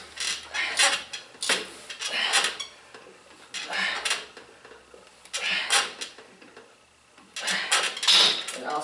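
A weight machine worked through repeated chest presses, with clanking metal plates and mechanical clicks in rhythmic bursts about once a second, close by, with brief pauses between sets.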